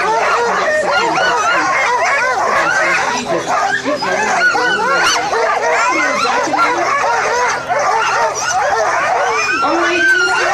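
Sled dogs at the start of the Yukon Quest 300 race in Whitehorse, a dense, loud chorus of excited barks, yips and whines that carries on without a break, with crowd noise and voices mixed in.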